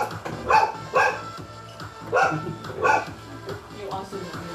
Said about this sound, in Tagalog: Yung aso mo.